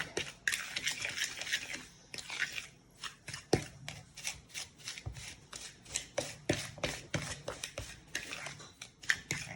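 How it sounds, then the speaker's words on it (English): Brown sugar and graham cracker crumbs stirred together with a fork in a bowl, giving a steady run of quick, close scraping and clinking taps with no talking. "I'm just going to quickly mix those together with a fork"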